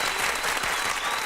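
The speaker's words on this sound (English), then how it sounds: "we got to break out applause for this one" Dense, steady clapping fills the whole brief moment, loud and close, like a short burst of studio applause.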